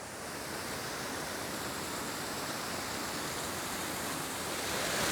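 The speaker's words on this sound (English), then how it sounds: "This waterfall right here is making a lot of noise." A mountain waterfall roars close by as a dense, unbroken wash of broadband noise, loud and steady, swelling slightly toward the end, with no voices over it.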